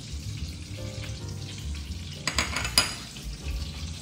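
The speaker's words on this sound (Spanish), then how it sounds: "Vamos a saltear estos camarones por 4 minutos aproximadamente" Shrimp sautéing in a frying pan outdoors on a beach, a soft continuous sizzle with a few metallic scrapes and clatters of a utensil against the pan.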